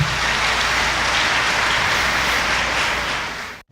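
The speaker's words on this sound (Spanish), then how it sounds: "Recibámosle con un aplauso." An audience at a university lecture applauds with dense, steady clapping that fills the room for a few seconds before cutting off abruptly.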